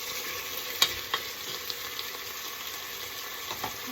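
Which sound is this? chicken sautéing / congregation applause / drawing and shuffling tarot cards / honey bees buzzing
chicken sautéing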